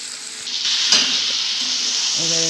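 Chicken pieces coated in spices and a squeeze of lemon sizzle in a hot pan as they are stirred, a continuous frying hiss with a sharp scrape and a few soft clinks of the utensil.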